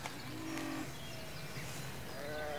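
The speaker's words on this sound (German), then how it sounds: "Das sind Kamerun-Schafe!" Cameroon sheep bleat in a barn, a short wavering call early on and a fainter one near the end, set against a steady noisy background.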